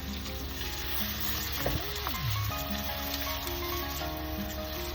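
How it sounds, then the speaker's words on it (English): Onions and chilies for a mushroom masala sizzle and fry steadily in a hot pan, a dense, even crackling hiss that stays loud and close throughout, with no voices. "So now I'm going to put the onions in."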